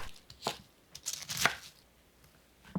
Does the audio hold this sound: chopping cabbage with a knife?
yes